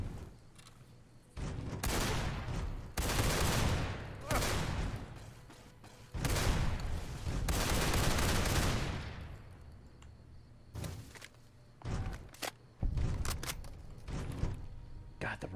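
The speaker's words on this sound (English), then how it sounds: "God, the riot shotgun is so good." Riot shotgun fire in the video game Fallout New Vegas: rapid loud blasts come in dense bursts and rolling volleys, with a few sharper single shots toward the end and a voice talking between them.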